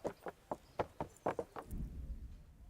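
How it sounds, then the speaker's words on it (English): Horse hooves clip-clop in Kingdom Come Deliverance, about seven distinct, evenly spaced steps that are fairly close and clear, followed by a low rumbling shuffle as the hoofbeats stop. "Yeah, let's get my horse."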